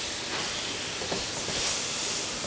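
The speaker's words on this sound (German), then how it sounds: "Mit Calvados ablöschen." Butter-fried apples in a hot pan hiss loudly as Calvados is poured in to deglaze, a steady close sizzle with a brief swell near the end.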